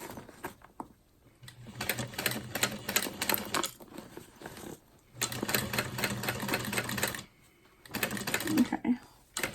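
Sewing machine stitching a handbag in close-up, three bursts of rapid mechanical whirring separated by short pauses, with light handling noises between runs.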